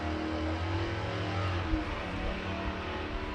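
A drag racing car with little weight over the rear axle, so its rear tyres spin easily, roars steadily down the strip at Santa Pod. The engine noise holds at a constant, moderately loud level with no talk.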